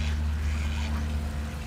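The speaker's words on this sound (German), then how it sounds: "Das sind sogenannte Teichenten" Ducks quacking at a pond, a brief burst of nasal calls sitting over a constant low rumbling background hum, with no speech.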